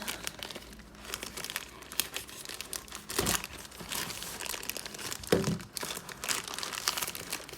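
Plastic packaging crinkles and tears in repeated bursts, close by and fairly loud, as someone struggles to get it open.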